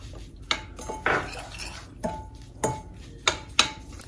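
Chicken being mixed by hand in a bowl with ginger, pepper, garlic and onion, with irregular clinks and knocks against the bowl, a few sharp taps among softer stirring noises.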